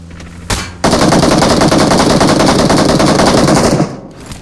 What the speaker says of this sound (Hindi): एके एम सिक्स एक्स है फायरिंग कर।